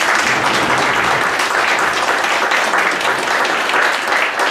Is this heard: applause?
yes